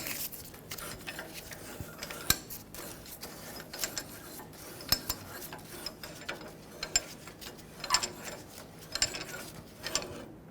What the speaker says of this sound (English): So when you take this off, turn it to the right as you're looking at it to unthread it.